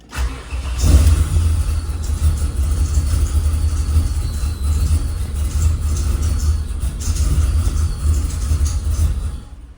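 A car engine cranks and fires on its first start attempt, catching with a loud low rumble and a brief rev, then running rough and steady at a fast idle for several seconds with no talk.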